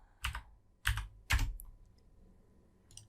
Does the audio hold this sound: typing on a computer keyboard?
yes